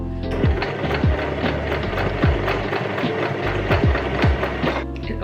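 Sewing machine running steadily while stitching a frill skirt, a continuous loud mechanical whir with repeated low thumps throughout, no talking.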